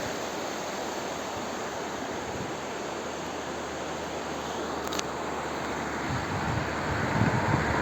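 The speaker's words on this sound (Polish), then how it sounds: "Tak się nazywa potok." Continuous broadband rushing of the Siwa Woda mountain stream flowing nearby in Chochołowska Valley, Poland, steady and fairly loud with some wind buffeting, no voices.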